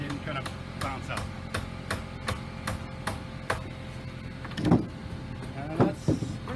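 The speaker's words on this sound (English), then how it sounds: "I'll hammer this in and then give it a hit here just to make sure that this stays in" Hammer blows drive a fastener into wooden dock boards during a dock rebuild, sharp knocks scattered through the clip with a few heavier strikes near the end, up close over background noise.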